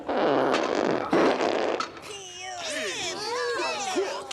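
A loud comic fart bursts out in a scene from the Garbage Pail Kids movie, a long rumbling blast followed by a character's high, wavering vocal reaction.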